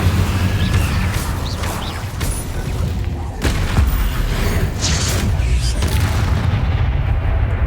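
Incendio and Confringo spells are cast in Hogwarts Legacy, giving dense blasts, fiery whooshes and booming impacts over continuous game noise, with a voice calling out spell names.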